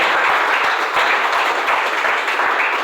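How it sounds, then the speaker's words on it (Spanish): Congregation applauding during a church service, a thick, continuous roar of many hands clapping, close and loud for the whole stretch. "Denle un aplauso al Señor, por favor, esta mañana."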